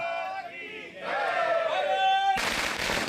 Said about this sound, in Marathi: नागरिकांनी फटाके फोडून पेढे वाटून जल्लोष केला